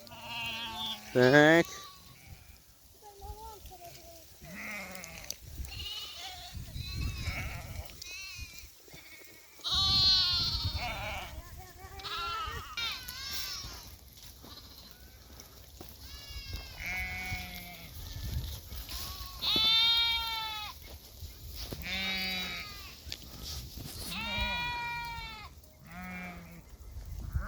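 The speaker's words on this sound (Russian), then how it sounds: "А, баран и бараниха." A ram and a ewe bleat repeatedly, with loud, wavering cries that come close and clear at irregular intervals. People talk now and then between the calls.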